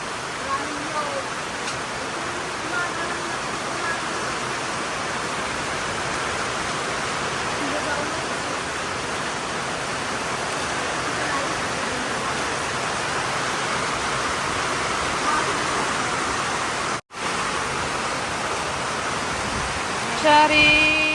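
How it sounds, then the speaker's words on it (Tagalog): Steady, dense wash of rain pouring down, a broad continuous hiss with no breaks, loud and close throughout. "grabe ang ulan."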